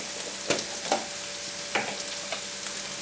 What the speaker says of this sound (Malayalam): ഉള്ളി ചെറുതായിട്ടൊന്ന് വഴണ്ട് വരുമ്പോഴത്തേക്ക് 1 ടീസ്പൂൺ ചതച്ച മുളക് ഇട്ട് കൊടുക്കുക.